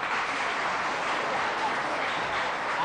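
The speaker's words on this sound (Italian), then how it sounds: "facciamoci un applauso davvero prolungato" Steady, dense applause from an audience, a continuous even wash of clapping with no breaks, likely with some voices mixed in.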